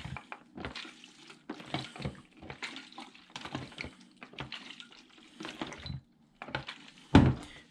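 Cinestill DF96 developer sloshing inside a film developing tank under constant agitation, a series of repeated liquid swishes and rattles in steady rhythm, close and moderately loud, ending in a sharper knock.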